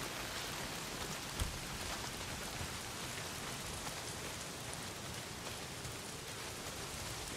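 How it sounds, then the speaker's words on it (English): Heavy rain pours down in the video game Days Gone, a dense, even hiss of drops on surfaces that continues steadily throughout with one small thump partway through. "Well, not if it's pissing down rain."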